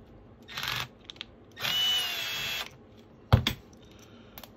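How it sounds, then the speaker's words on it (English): Power screwdriver backing screws out of the top of an HIF44 SU carburetor, two short whirring bursts up close, the second longer, followed by a small metallic clink. "I'll remove the screws nice and gently with a screw or with a power screwdriver."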